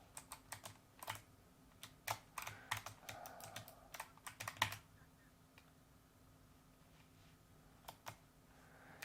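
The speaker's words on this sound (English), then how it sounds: "I'm just holding down a key here on my keyboard" Keys clack on a Logitech G915 clicky mechanical gaming keyboard in quick, uneven bursts of sharp clicks, close and fairly quiet, trailing off into sparse taps toward the end.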